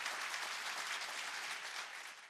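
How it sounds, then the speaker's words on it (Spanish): A Catholic debate audience bursts into steady, fairly distant applause, a thick even wash of claps that holds and then begins to fade at the end. "Fuerte ese aplauso."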